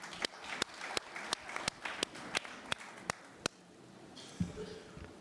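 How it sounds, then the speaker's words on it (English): Audience at an education bill hearing in Randfontein clapping in a sparse, slow, rhythmic pattern of distinct claps, fairly faint, with a few muffled bumps and a short voice near the end. "give yourself a round of applause"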